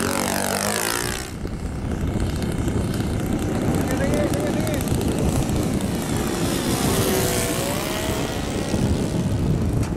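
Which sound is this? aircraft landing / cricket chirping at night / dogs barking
aircraft landing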